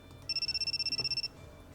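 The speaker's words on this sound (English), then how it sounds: "My private cell phone begins to buzz in my pocket uniform" A cell phone rings in the visual novel game The Fruit of Grisaia: a fast, pulsing electronic jingle lasting about a second, fairly quiet over faint background noise.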